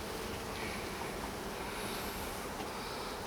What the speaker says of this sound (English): Bees galore.